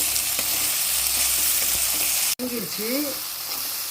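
Tomato and curry leaves fry in a pan with a steady, close hiss and sizzle and a brief stir partway through. A short voiced sound follows near the end.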